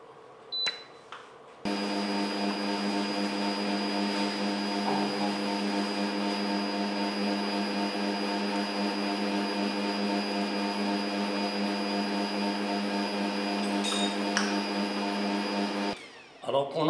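An electric mixer whisks egg yolks with sugar for a cheesecake dessert, giving a steady, continuous motor whine that starts abruptly and runs unbroken for about fourteen seconds before stopping.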